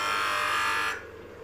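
Woodturning lathe spinning at 3000 RPM while turning a segmented bottle opener and stopper, a steady loud motor whine and hum that cuts off sharply partway through, leaving a low residual drone.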